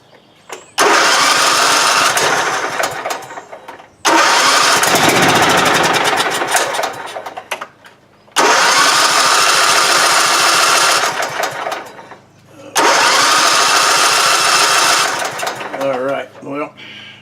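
A Cub Cadet Ariens tiller engine, suspected to have a bad coil, roars up loudly and runs, then cuts out. It starts and dies four times in a row, with brief gaps between the bursts.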